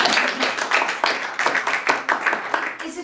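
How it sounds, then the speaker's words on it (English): A small audience at a literary festival conversation gives a round of applause, loosely pulsing clapping from a modest crowd, fairly close and continuous throughout. "I think we could do a spontaneous round of applause."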